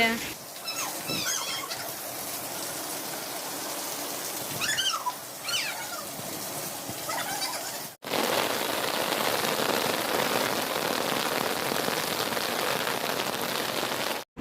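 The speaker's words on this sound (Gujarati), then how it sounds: "જો વરસાદ આવવા માંડ્યો હે ઉનાળામાં વરસાદ આવે છે" Summer rain falling outdoors, a dense, even patter that fills the whole stretch, with some animal-like calls over it early on and the downpour growing heavier and steadier in the second half.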